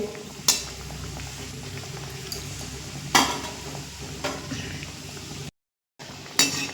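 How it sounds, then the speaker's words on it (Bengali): Mini chicken patties fry in hot oil one at a time, giving a steady loud sizzle and bubbling with a few sharp splashes and clatters as more oil is spooned over them. "এবার আমি দিয়ে দেব একটা একটা করেই আমি ভাজবো উপর থেকে একটু এইভাবে তেল ছড়িয়ে দেবো"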